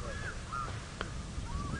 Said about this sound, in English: You can hear the fish eagle calling behind us.